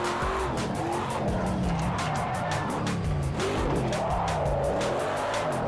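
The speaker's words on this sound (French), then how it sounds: "j'essaie de faire la glisse, la longue glisse, on est sur l'herbe" A Ford Mustang RTR drifts through a long slide onto grass in Project Cars 2, with continuous loud tire squeal and skidding over a roaring engine that rises and falls steadily throughout.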